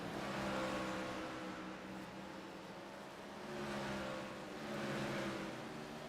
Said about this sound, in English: 17 car coming to pit road this time.